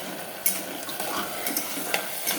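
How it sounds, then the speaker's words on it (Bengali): Spiced chicken being stirred and fried in a pan, with a steady sizzle broken by several short scraping clacks of a utensil against the metal, close and moderately loud with no talking. "ভালো করে একটুখানি ভাজা ভাজা করবো,"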